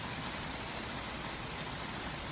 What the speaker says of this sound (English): British summer has truly arrived. Look at this rain.